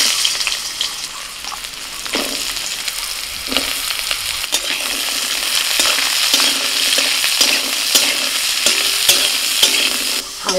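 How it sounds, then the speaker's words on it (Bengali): Dried red chillies and hog plums sizzle in hot oil in a pan for an amra chutney tempering, with a steady hiss broken by repeated scraping and clinking stirs of a spoon against the pan. "ফোড়ন দিচ্ছি, শুকনো লঙ্কা, আমড়াগুলো দিয়ে দিচ্ছি গো।"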